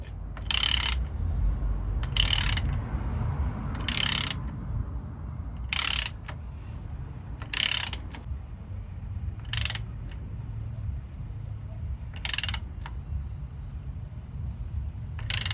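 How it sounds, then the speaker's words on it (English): A 1/2 inch ratchet works on the 13mm square drain plug of a Land Rover Discovery 2 differential, giving about eight short bursts of ratcheting clicks at uneven intervals over a low background rumble, close and clear. "the drain plug is 13mm square, or a 1/2 inch ratchet will probably do it"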